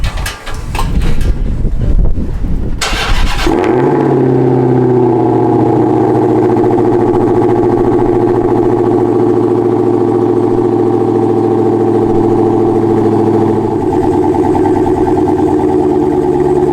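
A car engine cold-starts in a garage: a brief cranking burst, then the engine catches and settles into a steady, loud, close idle with a low hum and tonal drone.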